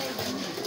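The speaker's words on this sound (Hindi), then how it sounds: "कलपरा कबूतर बोलते हैं भाई, काट वालों में से" A kalpara pigeon coos softly and continuously through a short, steady stretch, close by, with faint background noise.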